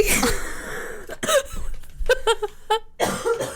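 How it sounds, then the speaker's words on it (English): Several harsh, chesty bronchitis coughs in quick bursts, close and loud, separated by short pauses and ragged breaths. "ASMR bronchitis cough."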